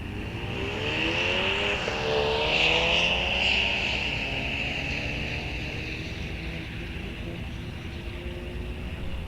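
A Mustang and a VW launch side by side at a drag race at Rock Falls Raceway, engines roaring hard and loud as they pull away down the track before the sound settles into a steady drone.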